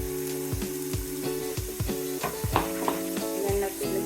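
Onions going into a hot pan and frying, a crackling sizzle under repeated sharp clanks of a utensil against the cookware in an uneven rhythm.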